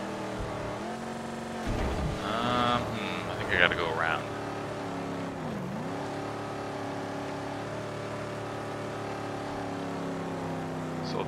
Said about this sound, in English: that engine revving in my ears.